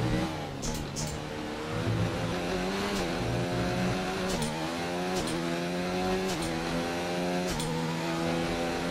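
A Formula 1 car engine in the F1 2019 racing game, lapping the Mexico circuit: a continuous high-pitched whine climbing through the gears, with brief dips at each upshift and short crackles, loud and steady with no talk.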